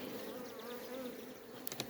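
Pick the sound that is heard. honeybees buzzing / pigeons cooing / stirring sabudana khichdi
honeybees buzzing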